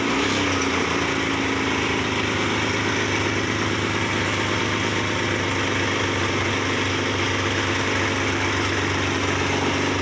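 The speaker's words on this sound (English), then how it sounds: "Both cylinders are running. Let it circulate some oil around." A Lifan 250 quad engine idles after a clutch replacement, a loud, steady, close rumble with an even mechanical chug running throughout.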